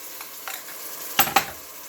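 Chouriço sausage and peppers being stirred in a pan, with a low sizzle that gives way to two quick, close scraping strokes of a big spoon near the end.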